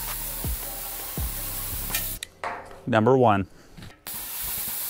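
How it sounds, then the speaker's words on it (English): A plasma cutter hisses loudly as it runs around the edge of a steel washer to cut a hole, a sharp close rush of gas starting and stopping abruptly, with someone speaking briefly in the middle. "All we have to do is take the plasma cutter, run it around the edge of the washer"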